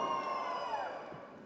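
An audience at the Ayogya 2 song launch event cheers and whoops in a short burst that fades slightly toward the end, crowd noise carrying through the hall.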